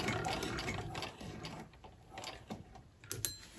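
A hand-crank sewing machine stitching fabric for a bodice: a steady, close mechanical whirring and clicking with rhythmic needle strokes, slowing slightly midway and picking up again, with no talking.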